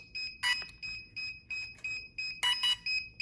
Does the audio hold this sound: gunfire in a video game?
no